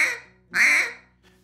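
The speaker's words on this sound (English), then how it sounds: "As I blow the quack, I'm just gonna raise the tongue up like this to push air forward." Two duck-call quacks blown on a handheld call, the second longer and louder with a whining finish made by raising the tongue, sounding close and alone.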